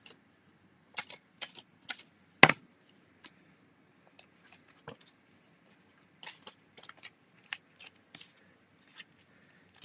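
Scissors snip in short, sharp bursts, a scattered run of crisp metal clicks and cuts spaced irregularly at close range, with one louder snap partway through and no talk.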